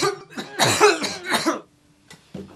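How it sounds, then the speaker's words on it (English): Several harsh coughs in quick succession, close and loud, followed by a brief pause and a smaller cough at the end. "So cover that cough and wash your hands."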